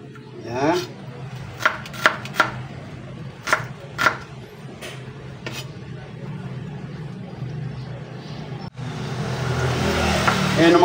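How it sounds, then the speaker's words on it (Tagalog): A knife chops onions on a board for pork and tofu sisig, giving about seven sharp, separate thuds at an uneven pace before they stop and a steady background rush rises and keeps going. "Gayatin lang po natin lahat yung sibuyas"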